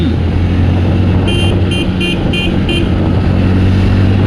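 Jawa 42 Ivory Edition motorcycle engine running steadily while riding on a road, a constant low drone with road and wind noise throughout and a few brief horn-like tones midway.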